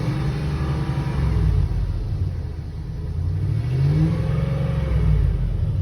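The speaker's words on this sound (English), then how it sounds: "just give it a little gas here if you can hear the engine." A van engine with 97,000 miles on it gets light throttle, rumbling close by and rising and falling in two gentle revs over a steady low idle.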